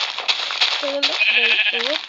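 Sheep bleating in the Minecraft video game, several short wavering bleats in quick succession, moderately loud over a steady bed of background game noise.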